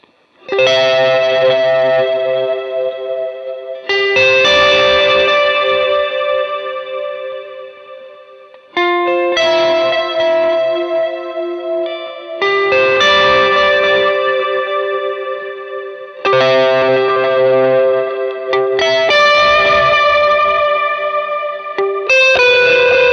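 Lead lines on an electric guitar run through a NUX Tape Echo and a Strymon Cloudburst reverb, loud and sustained, with notes ringing into each other in washy, ambient phrases that swell and break off several times.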